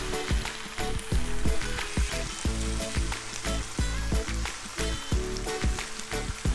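Green beans sizzle in a pan with steady, crackling frying noise and repeated rhythmic scraping or clacking as they are stirred, close and loud with no talking.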